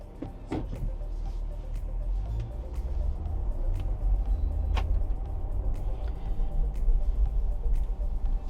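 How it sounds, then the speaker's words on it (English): INEOS Grenadier driving on the road, heard from inside the cabin as a low, steady rumble of engine and tyres that builds slightly, with a few light clicks and knocks. "So let's go for a drive."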